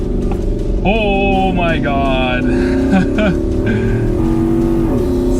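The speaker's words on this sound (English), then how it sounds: "Time to floor it." A car engine is floored to full throttle and revs up to about 6,000 rpm, its pitch climbing in loud, rising surges close by, while a voice exclaims over it.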